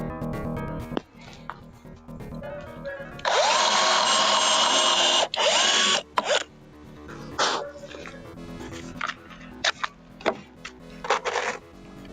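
A power drill drives a screw into wood on a loft staircase build, with one sustained loud whirring run of a few seconds, then short bursts, clicks and handling knocks close by.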